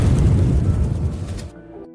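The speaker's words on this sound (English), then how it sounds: "suddenly a bomb exploded." A bomb explodes in a Palestinian village, a loud, dense rumbling blast that roars without a break and then drops away abruptly near the end into silence and a faint low hum.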